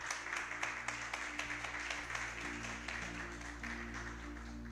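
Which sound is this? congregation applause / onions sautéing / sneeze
congregation applause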